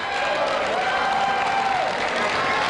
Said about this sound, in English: Hastings crowd now getting into it. Some nice clean cheers